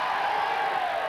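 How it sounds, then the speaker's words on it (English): Arena crowd at the NEC during a 1996 7up Trophy basketball game between Worthing Bears and London Towers, a steady, loud roar of cheering fans with no breaks. "This crowd making a whole lot of noise."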